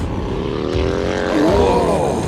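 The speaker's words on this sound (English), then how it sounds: "It's amazing how fast they can get through that tight chicane on these bikes." Harley-Davidson bagger motorcycles race through a tight chicane at Brainerd during a King of the Baggers event, their engines droning and rising in pitch as they sweep past, loud and steady with no talk.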